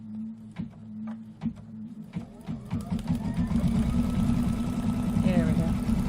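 A sewing machine stitches metallic thread on a pillow wall hanging: a few slow clicks, then a rapid, steady mechanical whirring and chattering that builds and runs on close by.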